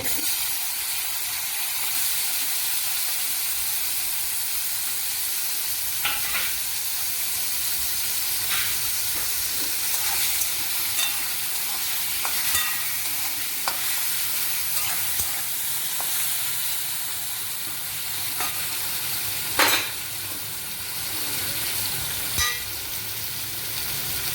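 Chopped green chillies and tomatoes fry in a pan with cumin seeds for sabudana khichdi, giving a steady, close sizzle and hiss with occasional light spoon clinks from stirring throughout.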